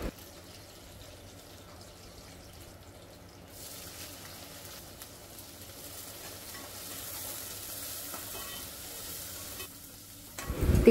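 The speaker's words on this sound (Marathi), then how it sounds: "तर भेंडी वगैरे कट करून झाल्यानंतर आता मी ते डाळीला फोडणी घालते." Hot garlic tempering sizzles as it is added to moong dal in a home kitchen, a continuous frying hiss that swells louder partway through, then a brief louder clatter at the end.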